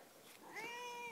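House cat meowing indoors, one drawn-out, rising-and-falling meow that is quiet but clear over a faint hiss of background noise.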